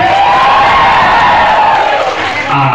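Guests at a 60th birthday celebration clap and cheer loudly together, a dense crowd roar with whoops rising above it throughout.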